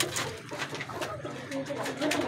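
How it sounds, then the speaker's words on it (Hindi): Soft pigeon coos repeating close by, mixed with rustling and faint background voices. "कबूतरी है एक"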